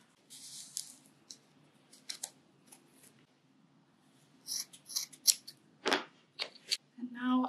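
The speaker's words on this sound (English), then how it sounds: "Now I need some scissors." Scissors snip through yarn while a crochet poncho is being made, with a few sharp close cuts and some rustling of the strands between quieter pauses.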